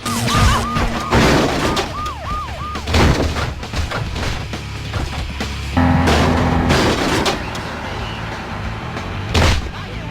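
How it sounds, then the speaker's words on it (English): Crashes and crunching impacts from the Road Rash motorcycle racing video game, with repeated loud smashing hits and booms over engine drone and a warbling siren-like tone, dense and continuous. "you can get run over, you have the crunching sound effects"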